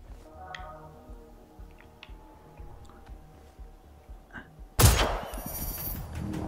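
Sparse clicks and faint ticks from the Generation Zero game on Xbox Series X, then a loud burst of gunfire near the end.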